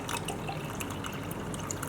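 About a cup of water pours into a blender jar holding a whole banana for a smoothie, a steady, soft splashing trickle that runs unbroken, with no one talking.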